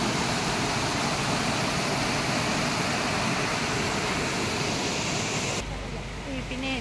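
Stream water rushes loud and steady near Sohra, a dense broadband roar that drops abruptly to a quieter, thinner flow near the end.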